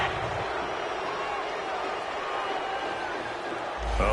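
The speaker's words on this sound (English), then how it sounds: "this crowd does not like that call" Stadium football crowd reacting to a roughing-the-passer penalty, a broad sustained roar of boos and shouts filling the space, with a commentator talking over it.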